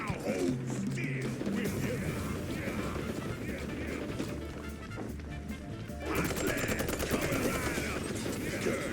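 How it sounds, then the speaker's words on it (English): Rapid Gatling gun fire from a giant sewer-dwelling gator boss in the video game Mouse P.I., a dense continuous barrage of shots with crashing impacts running throughout, loud and busy with game effects layered on top. "A giant gator in the sewers with a Gatling gun."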